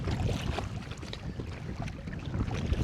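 Strong gusty wind buffeting the microphone on a kayak on the Norfolk Broads, with rumbling low noise and water sounds throughout.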